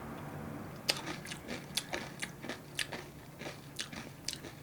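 Close, crisp crunching of a tteokbokki-flavored Korean snack being chewed, a quick series of sharp crackly bites in an irregular rhythm against a quiet background.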